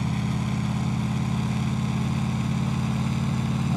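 A big truck engine in Euro Truck Simulator 2 hauling an oversized load gives a steady, deep, throaty rumble that drones evenly and loudly throughout, with no talk.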